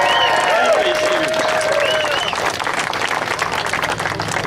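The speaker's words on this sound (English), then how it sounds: "Let's give a great round of applause for both these leaders." Sustained audience applause at a Mitt Romney campaign rally in Colorado Springs, a dense crowd of clapping with a few whistles and cheers, fairly loud and continuous throughout.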